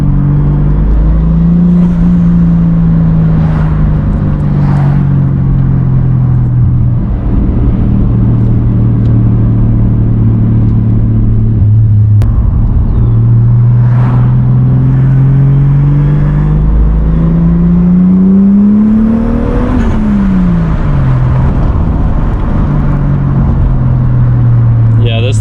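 Interior sound of a 1990 Toyota Supra MK3 Turbo driving on the road: a loud, steady engine drone rising and falling in pitch through several acceleration pulls and gear changes, with a driver talking over it.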